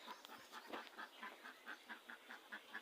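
Ducks being let out give a faint, distant run of rhythmic repeated quacks over a low background hiss.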